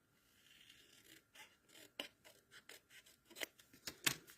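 Scissors snip off a small piece of paper during a card-sketching craft session, heard as a series of quiet, irregular cuts and rustles with no talking.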